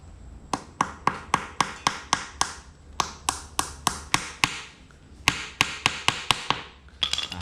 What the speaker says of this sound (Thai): ตะปูเข็มที่เราเตรียมไว้ แล้วก็ ตอกลงไปเลย